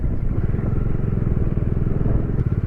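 A Bajaj Dominar 400 motorcycle rides slowly on a Ladakh road, its engine a steady close rumble with dense low-pitched pulsing throughout, the whole stretch loud and continuous with no voices over it.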